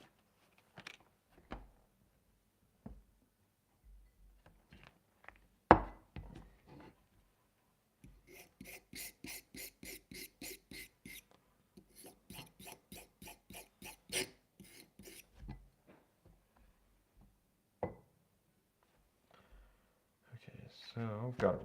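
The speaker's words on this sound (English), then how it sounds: "I'll sharpen my knife and I'll cut those in" A knife blade is sharpened by hand in a helmet-building workshop, with bursts of quick rhythmic rasping strokes separated by pauses and scattered small clicks, close and fairly quiet.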